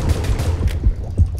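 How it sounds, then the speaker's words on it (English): Rapid bursts of starter pistol fire in the underwater shark game Depth, several close sharp shots in quick succession over a low rumbling game background. "these starter pistols don't do crap to that thing"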